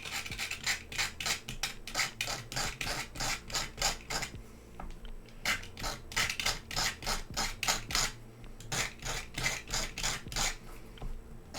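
Back of a leather piece being roughed up for glue adhesion, heard as steady rhythmic rasping strokes, about two per second, with a brief pause partway through, close and fairly quiet with no talking.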